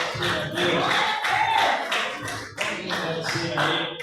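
Clapping from a church congregation during a service, quick rhythmic hand claps close by, kept up steadily in a beat with voices blending in underneath.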